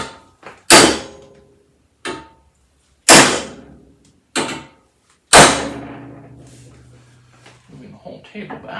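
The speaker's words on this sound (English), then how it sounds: "to the other hammer, which is very heavy" A very heavy hammer strikes aluminum stock on a table: six sharp, ringing blows at uneven intervals, the last one sustaining a long metallic ring, close up, with a person talking between hits.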